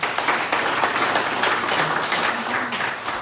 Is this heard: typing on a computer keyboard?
no